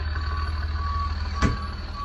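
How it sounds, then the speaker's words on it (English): A truck backs up with its reversing alarm beeping steadily over a low diesel engine rumble, close by and fairly loud. "They're gonna back the whole truck up for me"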